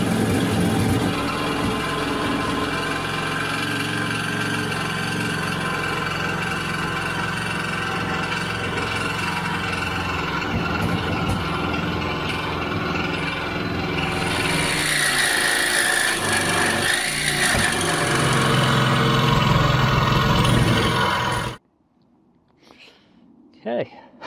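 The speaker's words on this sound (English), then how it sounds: "Not too bad for a little 12-volt battery operated jigsaw, right?" A small 12-volt battery-powered jigsaw cuts steadily through wood, a loud continuous rasping buzz close by that runs for about twenty seconds before stopping abruptly, followed by brief quiet handling noises.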